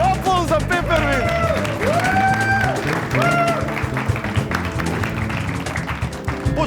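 A studio audience applauds on a Macedonian talk show, with steady clapping under music and a cheer partway through, continuing for several seconds.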